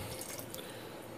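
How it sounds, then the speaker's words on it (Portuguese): Water is poured into a pot of feijoada baiana, giving a steady, soft splashing wash that lasts throughout, with no talking. "Bota aqui mais um pouquinho de água, porque vai secar um pouco."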